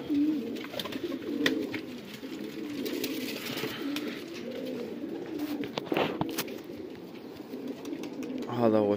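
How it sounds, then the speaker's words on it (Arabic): Pigeons coo nearby in soft, repeated low throbbing calls that carry through the whole stretch, with scattered rustles and a brief rising squeak at the end. "هذا هو شباب الطير."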